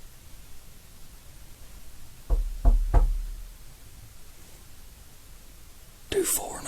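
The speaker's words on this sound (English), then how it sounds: "3 knocks can be heard on the door right after he asked the supposed ghost to knock 3 times." Three distinct knocks on a door, evenly spaced and fairly close, in a quiet room with soft background hiss and faint whispering nearby.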